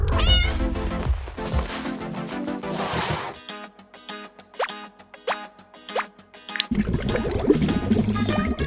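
A pet cat meows loudly and insistently at a fish-teaser toy, several drawn-out cries between stretches of busy background music and rattling noise.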